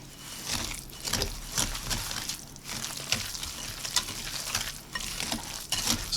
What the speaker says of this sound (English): to that we're going to add our sugar. And we'll go ahead and get that stirred in.